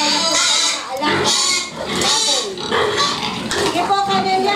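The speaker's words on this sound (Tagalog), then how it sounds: "Sige po, Kanelia, ano po ba itong mga alaga nating baboy na napakalimit?" Sows and fattening pigs on a farm in Imus, Cavite grunt and squeal close by in loud, overlapping bursts, with a person talking among them.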